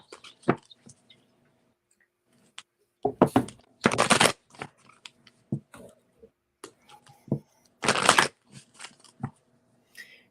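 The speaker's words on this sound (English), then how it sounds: "Yeah, I'm gonna go ahead and shuffle." Tarot cards being shuffled by hand, heard as scattered close ticks and taps, with two denser riffling bursts in the middle and late part, all fairly quiet with no talk.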